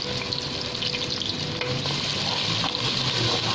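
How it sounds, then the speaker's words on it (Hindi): Two medium onions, finely chopped, fry in oil in a clay pot, giving a dense, steady sizzle with faint stirring scrapes, close and loud with no talk. "अब इसी ऑयल में हम लोग 2 मीडियम साइज़ की बारीक कटी हुई प्याज डालकर इसको भी अच्छे से फ्राई करेंगे।"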